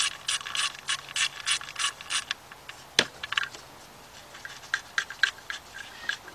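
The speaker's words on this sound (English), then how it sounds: "So what we're going to do is get that nut off of there." A ratchet works a 10mm nut off a bracket on a Ford Fiesta engine, with repeated close rhythmic ratcheting bursts, a sharp metallic clack midway, then more ratchet strokes.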